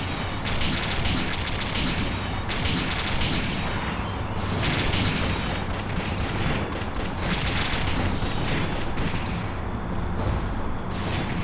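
Video game boss nuke attack, a dense barrage of repeated booming explosions and crackling blasts layered over a continuous loud roar, with sharp bursts recurring every second or two throughout.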